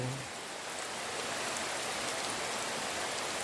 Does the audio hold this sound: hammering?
no